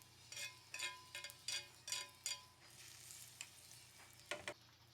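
Onion fries in a splash of oil in a pan, quiet sizzling broken by a series of louder bursts as it is stirred, no voices over it.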